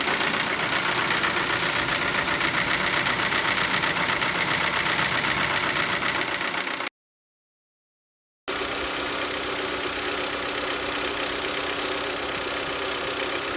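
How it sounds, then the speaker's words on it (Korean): A normally running Hyundai YF Sonata engine idles steadily and evenly up close. The drone breaks off for a moment of silence midway, then resumes unchanged, with no voices. "이렇게 네, 일정하게 엔진음이 나야 정상입니다."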